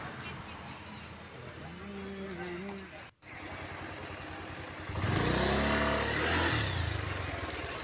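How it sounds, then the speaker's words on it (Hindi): A Pulsar 150 motorcycle engine drones steadily while riding, with wind rushing over the mic and the engine note swelling louder and rougher after a brief dip, as a rider talks over it. "मैं पल्सर 150 पर मोटर व्लॉगिंग कर रहा हूँ"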